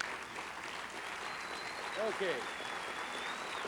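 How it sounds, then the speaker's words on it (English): Applause from an audience at the Southwest Convention, a soft continuous patter of clapping held at low level in the background while someone speaks briefly over it. "Let's give this guy a round of applause."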